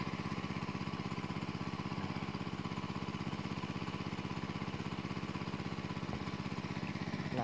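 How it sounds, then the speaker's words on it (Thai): A small engine-driven water pump runs steadily on a farm plot, its close, loud mechanical drone holding an even, rapid pulse throughout with no talking. "สูบน้ำใส่ดีพอแล้วครับ"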